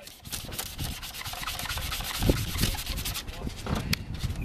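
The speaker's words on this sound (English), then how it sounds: "you use this block to take off this cloudy layer on this headlight." A sanding block scrubs across a cloudy plastic headlight lens in steady, rapid, continuous rubbing strokes, close and fairly loud throughout.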